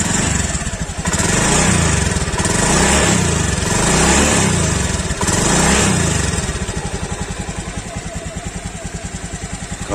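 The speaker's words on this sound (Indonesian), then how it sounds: "Kalau kita coba gas untuk sektor mesinnya halus ya." A used motorcycle checked before an auction purchase runs close by, its engine blipped through a few throttle surges over a steady drone before settling back to a smooth, even idle.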